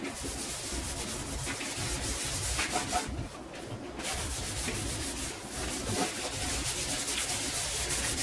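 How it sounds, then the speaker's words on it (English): Steady, close scrubbing of a bathroom sink with the abrasive side of a sponge, a continuous rough rubbing texture that pauses briefly around the third second before resuming with even intensity. "I'm going to use the scrubby sides to scrub my sink"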